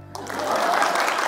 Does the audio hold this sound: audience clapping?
yes